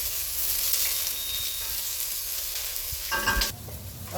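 Onions and a chili sizzle steadily in a hot pan, a soft continuous frying hiss up close, with a brief clatter of stirring near the end.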